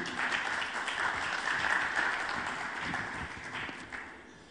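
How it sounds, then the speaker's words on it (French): Steady applause from a crowd, a dense wash of many hands clapping that holds throughout and eases slightly near the end. "avec le capitaine Frédéric Lardou du SMA, avec vos applaudissements, s'il vous plaît"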